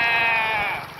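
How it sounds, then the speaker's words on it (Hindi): A rain-wet cow calls in a single short, high, quavering cry that sounds much like a goat's bleat, clear and close with no talk. "अभी भींग गया है गाय तो बकरी जैसा बोल रहा है"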